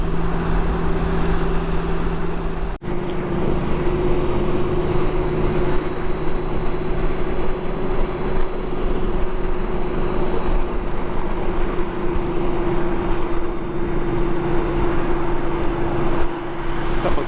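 A 20-year-old Honda Goldwing motorcycle cruises on the road with a steady, loud engine drone mixed with wind rush and road noise, continuous and unbroken throughout.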